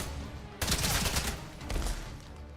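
Several bursts of gunfire from the video game Atomfall, a dense volley in the middle and another shortly after, loud and close over a steady game ambience.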